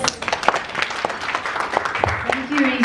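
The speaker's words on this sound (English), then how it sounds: "please give a round of applause to Marketing Manager of Alcatel" Audience applause at a phone company press launch in the Philippines, uneven clapping with distinct sharp claps, mixed with voices and crowd noise throughout.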